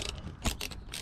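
A wrench ratchets sharply while cracking loose a bolt on a Mercury/Yamaha 115hp EFI outboard engine, with a few quick metallic clicks and one heavier snap near the middle, close and fairly quiet.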